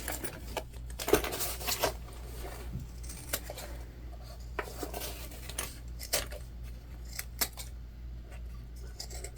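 Scissors snip through fabric while a sewn crossbody bag is trimmed before binding, a scattering of short, crisp cuts heard close and fairly quiet over a low background hum.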